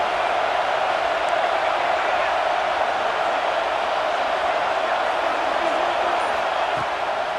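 A steady, dense stadium crowd roar in the College Football 26 video game, a constant wash of massed cheering at even loudness for several seconds with no individual voices standing out.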